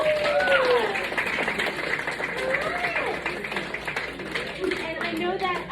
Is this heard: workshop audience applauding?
yes